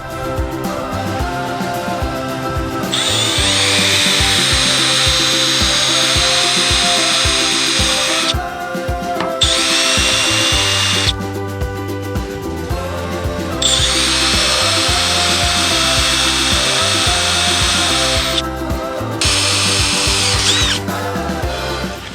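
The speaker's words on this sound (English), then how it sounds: "Tap ourselves a couple holes." A power drill bores and taps holes in a sailboat mast, running in two long sustained whining bursts with short pauses and brief clicks between, close and loud with no talking.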